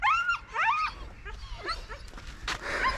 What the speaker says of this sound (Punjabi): ਇਹ ਬੋਲੀ ਕੁੱਤੀ ਆ